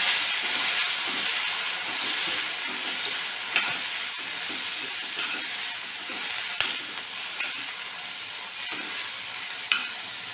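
Fresh mint leaves fry in a pan for mint chutney, giving a steady close sizzle and hiss with a few light clicks of stirring scattered throughout, and no talking.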